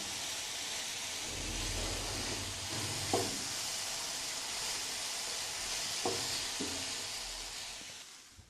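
Vegetables for pasta are stirred in a pan over a high flame: a continuous soft sizzling hiss, with a few sharp scrapes and clinks from the spoon against the pan, and no talking.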